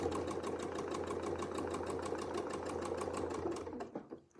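A sewing machine runs steadily through free-motion quilting of hexagon shapes, a fast even needle rhythm close by that slows and stops near the end.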